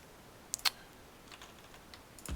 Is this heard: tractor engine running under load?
no